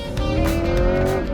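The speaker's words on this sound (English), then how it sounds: "The acceleration with this car, beautiful smooth shifts." A 2020 Chevrolet Corvette C8 Stingray accelerates hard, its engine note loud and close as it climbs smoothly in pitch without a break.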